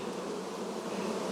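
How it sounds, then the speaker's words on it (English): Honeybees swarm around an open hive, with many crawling on the ground and on a stool near the frames, making a steady, dense buzzing drone that stays even and close throughout. "Now I got bees all over the ground."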